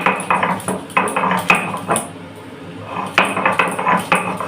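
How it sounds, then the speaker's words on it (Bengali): Garlic and green chillies being pounded into a paste, a quick run of close, hard knocks and scrapes of stone or metal that pauses briefly and then resumes. "এই যে রসুনটা আমি বাটছি"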